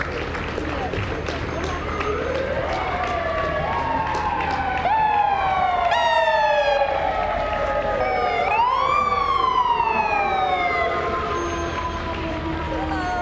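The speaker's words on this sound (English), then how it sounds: "probably a dozen or so trucks here With sirens blaring." A dozen or so fire trucks and emergency vehicles in a 2002 gubernatorial inaugural parade in Trenton wail and yelp together, rising and falling in overlapping sweeps, loud and steady over a noisy outdoor crowd.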